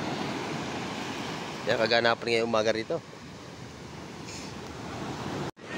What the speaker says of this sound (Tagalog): O yan, basa na tayo at malaki alon.